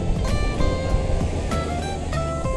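Sea waves roll onto the rocky shore of Patar Beach in Bolinao, Pangasinan, making a steady, loud surf roar with small splashing bursts throughout.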